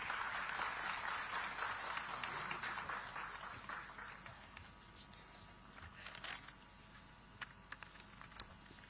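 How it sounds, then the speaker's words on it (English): An audience at a digital technology summit in Visakhapatnam applauds a speaker coming on stage, loud dense clapping that gradually fades to scattered claps and a few sharp knocks. "Let's welcome him with a warm round of applause"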